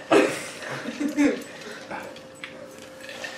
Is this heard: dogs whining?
yes